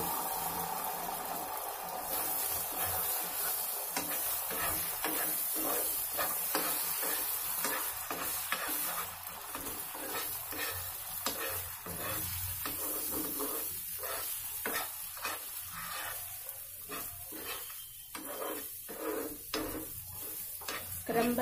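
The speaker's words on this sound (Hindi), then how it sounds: "हमने तवा हल्का सा ग्रेस कर लिया है ऑलिव ऑयल से। इसमें हम अंडे डालेंगे।" Eggs fry and sizzle on a griddle lightly greased with olive oil, a steady crackling hiss with repeated scraping and stirring strokes of a utensil against the pan throughout.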